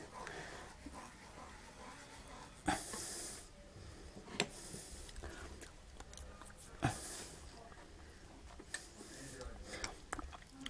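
Parsi scrambled eggs setting in a hot pan, with a soft low sizzle and hiss broken by a few sharp scrapes and clatters of stirring, close and fairly quiet, and a voice heard faintly at times.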